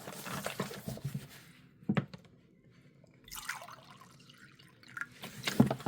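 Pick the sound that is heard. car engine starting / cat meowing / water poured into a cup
water poured into a cup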